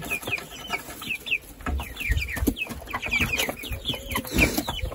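Several white meat-breed broiler chickens clucking and chirping close by, a busy overlapping chatter of short calls with occasional shuffling and thumps in the background.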